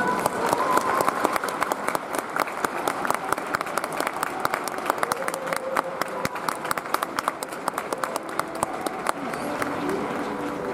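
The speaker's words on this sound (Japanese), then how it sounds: "どうか拍手でお迎えください。" Spectators applaud as a retiring player's family is welcomed at a retirement ceremony, with scattered clapping and sharp individual claps heard under continuous amplified announcer speech.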